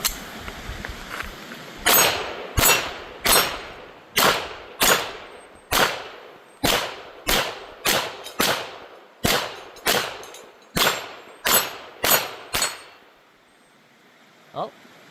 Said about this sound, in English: That was kind of a light powder round, so that did not have enough powder to pull the slide all the way back